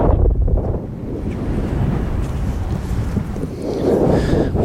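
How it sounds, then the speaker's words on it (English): Wind buffets the microphone on a seashore while waves rumble and wash in low and steady close by, without any voices. "and here I am at the sea."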